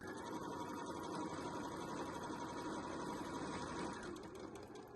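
A sewing machine runs in one steady continuous burst, tacking the lining of a waterproof twill scissor holder along its bottom corner, loud and close with a constant motor whir and rapid needle rhythm and no talk.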